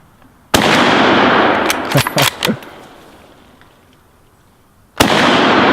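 A Kar98k rifle fires at a cap target on a range: a loud, sharp close shot that rings and echoes away, with a faint ping in the tail, then a second loud shot near the end.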